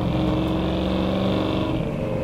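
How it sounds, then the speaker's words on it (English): A 1967 Ford F100 pickup's exhaust drones loud and close in a steady, throaty rumble, holding a constant engine note without a sharp rise, heard from inside the moving truck. "I'd rather listen to the exhaust."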